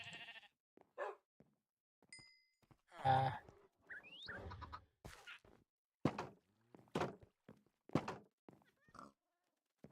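Minecraft cows (and sheep) lowing and bleating in a farm pen, several short separate calls spread across the scene, with thumps and clicks in between, no speech.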